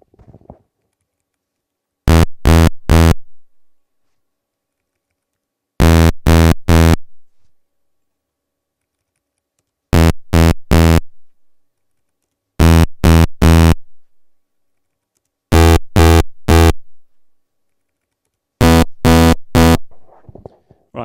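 Bursts of harsh, buzzy chiptune SyncBuzzer tones from maxYMiser in groups of three short pulses, repeating every few seconds with silence between, timbre shifting slightly from group to group as the detune changes.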